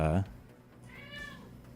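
A cat meows once in a room, a short rising and falling call that follows a brief burst of someone talking at close range.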